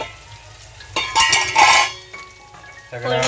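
Loud, bright sizzling bursts as tempering spices hit hot oil, crackling in surges with a few clinks of a pan, close by.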